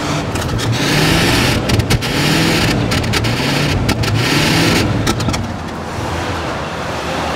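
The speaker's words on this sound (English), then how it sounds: "That is the sound of a 1978 Diamond Jubilee Edition Lincoln Mark V purring like a kitty cat" A 1978 Lincoln Mark V Diamond Jubilee Edition runs at a steady idle, its exhaust note a continuous low rumble with a slight uneven pulse. It stays moderately loud and close throughout, and no one speaks.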